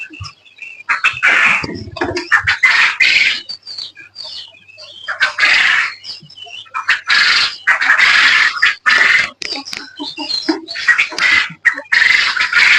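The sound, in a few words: farm birds squawking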